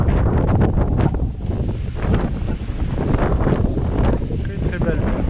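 Strong wind gusting up to 31 knots over a sailboat in the Gulf of Patras, Greece, roaring loudly and buffeting the microphone without pause.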